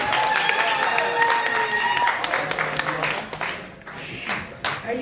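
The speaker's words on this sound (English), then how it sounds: "Give her a hand." An audience applauds a female performer introduced as queen of the gypsies at a live show, dense clapping swelling then gradually thinning over several seconds, with some cheering and crowd noise mixed in.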